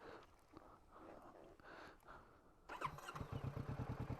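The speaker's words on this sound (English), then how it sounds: "I hope I don't scare them when I start this bike up." A motorbike sits quietly at first among dairy cows in a field, then its engine suddenly starts near the end and settles into a close, rapid, throbbing idle.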